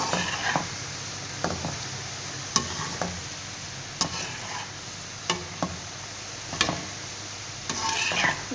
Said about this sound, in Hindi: अब हम इसको अच्छी तरीके से मिलाएंगे, पूरा ऊपर से नीचे तक इसको मिक्स करें।